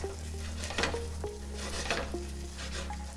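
Arborio paella rice poured into a hot pan and stirred, giving a steady sizzle with scraping and light clinks of the utensil against the pan, no voices.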